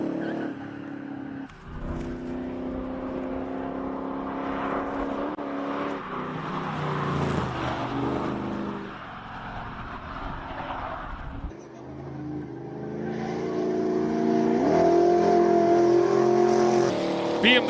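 Rally-spec classic car at a Cape Town speed event revving its engine before a run, loud harmonic engine note rising and falling over about eighteen seconds, with some voices in the background.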